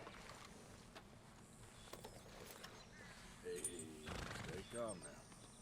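A horse whinnies in Red Dead Redemption 2 while its rider feeds and grooms it. The whinny comes late, at moderate volume, over a soft game ambience with light shuffling, and no one talks during it.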